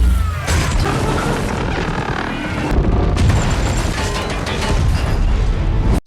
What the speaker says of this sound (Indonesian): Meski belum yakin meriam itu masih berfungsi, Nate tetap mencobanya.